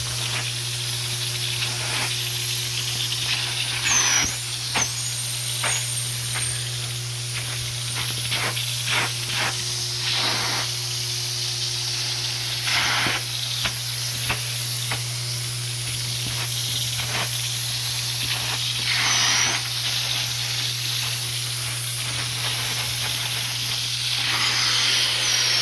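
Cleaner is sprayed onto furniture upholstery with a steady close hiss and a few short spurts, over a constant low machine hum.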